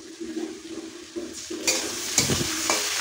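Ginger-garlic paste fries with potatoes and onions in a pan: quiet sizzling at first, then a louder burst of hissing and scraping stirs from a spatula close by, no talking.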